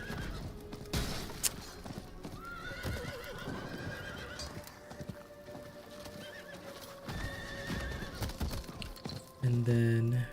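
A horse in Diablo 4 gives several whinnies and snorts over a run of clip-clopping hooves, fairly close, with a brief voice speaking at times.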